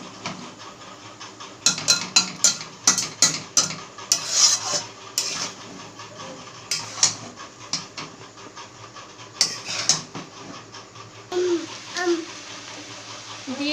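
Boiled chow mein noodles being tossed and stirred with masala in a home pan for vegetable egg chow, with repeated scraping and clattering strokes of a spatula over a low sizzle, close and fairly loud, with some speech in places.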